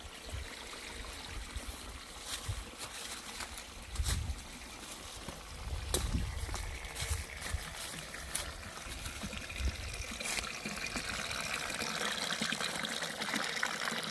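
Water from a tank flows steadily down through a hose at a rural hermitage, a faint continuous trickling and gurgling with a few soft knocks, heard alone without talk.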